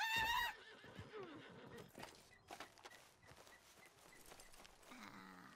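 A horse whinnies loudly and close at the start, a sharp high neigh that quickly fades, followed by scuffing hoof steps, rustling and muffled movement in the background.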